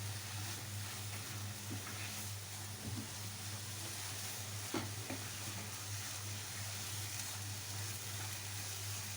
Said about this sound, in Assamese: এইখিনি আমি ধুনীয়াকৈ ভাজি ল'ম।